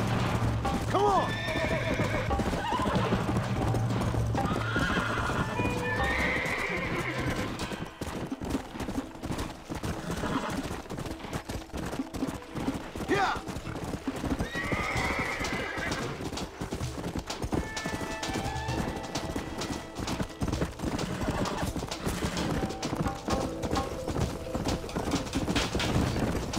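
Horses in the Red Dead Redemption video game clip-clop steadily on the ground and neigh loudly at intervals, with continuous hoofbeats under a busy game mix.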